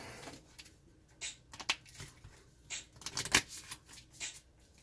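Playing cards being shuffled for a Rook-style card game, a run of quick soft riffling and flicking bursts, close and fairly quiet, with no talk.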